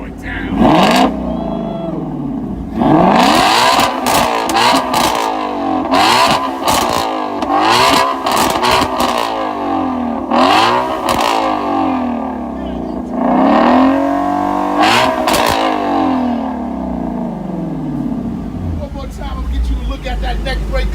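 A procharged car engine revs hard through its exhausts in repeated loud, rising and falling bursts close by, the blips running almost continuously with brief voices mixed in.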